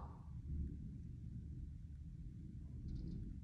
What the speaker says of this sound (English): There's really loud thunder in the sky,